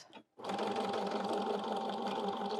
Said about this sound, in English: I am going to stitch over the ends of the zipper so that I don't lose the zipper tab.